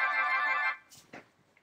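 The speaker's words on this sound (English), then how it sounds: "That's like a text tone that's had too much Ribena." A short bright phone text message alert tone rings for under a second, followed by a few faint clicks and a small blip.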